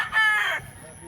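A rooster crows once, loud and close, a short bright call that cuts off quickly, followed by quiet.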